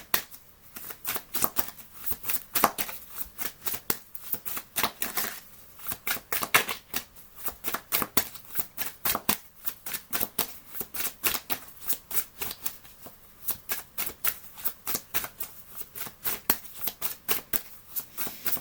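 Oracle cards being shuffled by hand, a steady run of crisp riffling flicks and slaps repeating rhythmically throughout, close and fairly loud, with no talking.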